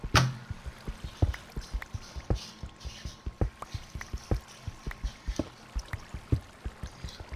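Water being poured in Minecraft, a stream of short splashy pulses repeating steadily throughout, fairly faint with no talking.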